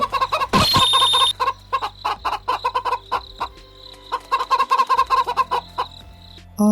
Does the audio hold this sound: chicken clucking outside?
yes